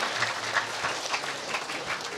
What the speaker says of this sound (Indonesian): Tepuk tangan dulu buat Pak RT kita